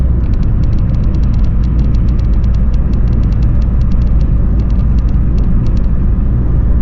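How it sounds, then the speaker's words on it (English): A car drives along a road and turns around, with a steady, loud low engine rumble throughout and faint rapid ticking above it, and no talking. "And we'll turn this car around, go back on through."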